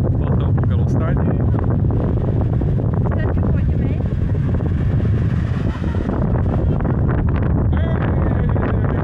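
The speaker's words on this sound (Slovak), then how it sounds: "A to ešte fúka, že každú chvíľu z iného smeru." Strong wind gusting on a beach in Tenerife, a loud, constant roar of buffeting against the microphone that barely eases throughout.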